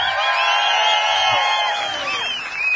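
Crowd at a bass fishing tournament weigh-in on Cayuga Lake, New York, whooping and cheering with loud, dense, sustained shouts that swell and then ease slightly.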